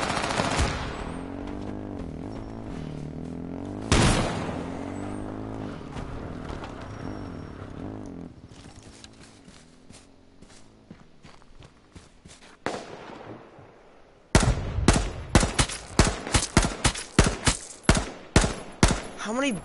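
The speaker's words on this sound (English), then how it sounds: "How many bloody shots do I need to give him to give him the real deal?" Gunfire from the online survival game H1Z1, with a few isolated loud shots over game ambience early on, then a rapid burst of about a dozen close, sharp shots in quick succession near the end.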